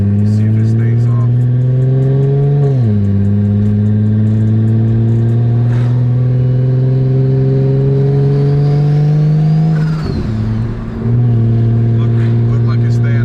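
A big-turbo BMW 335i drives under load, its engine tone climbing, dropping at a gear change and climbing again, with a loud rev and a bump of noise near the end, heard close from inside the car.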